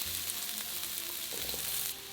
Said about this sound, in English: In the same wok over high heat, add the avocado oil and add the onion